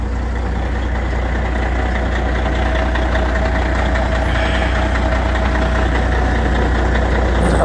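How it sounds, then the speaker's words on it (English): A truck engine idles steadily and loudly at close range after a cold start at -8 degrees, running a little smoky, with a continuous low rumble and no talk. "We're gonna let her run for a couple minutes before we try bumping up the RPMs to get her warmed up."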